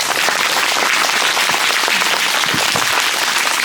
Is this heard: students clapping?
yes